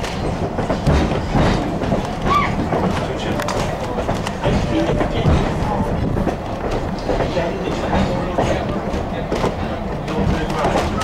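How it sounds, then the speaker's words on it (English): An Amtrak Keystone corridor train rumbles steadily along the rails near Paradise, Pennsylvania, curving left toward a junction, with continuous clattering and rattling heard from on board while someone speaks over the noise. "Our train's now curving to the left and approaching Lemon Place Junction at Paradise."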